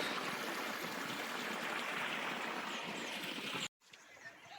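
Water gushing from a 1500W BLDC borewell motor pump at a 60-foot bore with 63mm pipe, a steady loud rushing flow that cuts off abruptly near the end, followed by faint background noise.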